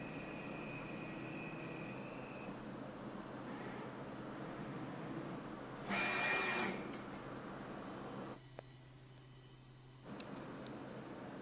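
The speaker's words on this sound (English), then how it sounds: "Turn on the machine, press confirm on the screen, machine initialize." A Charmhigh CHMT48VB pick-and-place machine whirs and hums as it initializes, with a steady mechanical drone, a louder motor burst in the middle, then a quieter tone with faint ticks and clicks.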